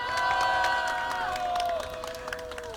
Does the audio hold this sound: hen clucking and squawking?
no